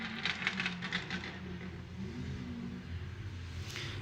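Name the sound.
drift car engine revving around corner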